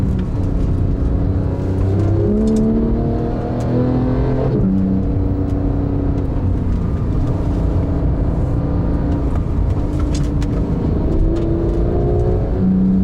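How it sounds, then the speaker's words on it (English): A Porsche 911 GT3 991.2 with a PDK gearbox climbs uphill, its engine droning steadily from inside the car. The pitch shifts up and down as the gearbox changes gears, with one clear step near the middle. "it downshifted just now because we're just going uphill"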